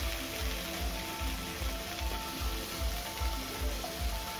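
Chilies sizzle in hot oil in a kadai just used for frying fish, making a dense, steady crackling hiss close up with no voices.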